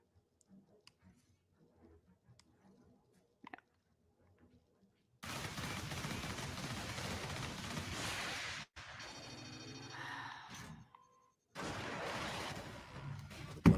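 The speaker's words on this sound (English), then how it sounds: "Yep, took a missile to the face." A missile strikes the player in the Warhammer 40K video game, producing loud, roaring broadband blasts that last several seconds, with a brief break and a second burst after a quiet opening.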